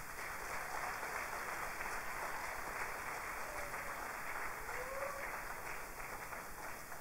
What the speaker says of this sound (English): you need to give yourselves a big round of applause for that